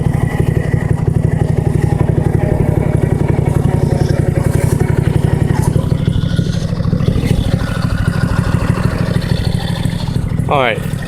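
A Toro LX425 lawn tractor engine runs steadily after a cold start, a loud close mechanical putter with even firing pulses and light clatter throughout, with a brief higher sound near the end.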